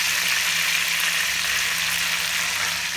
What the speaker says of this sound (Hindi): तो चिकन अच्छे से हल्का हल्का फ्राई हो गया है।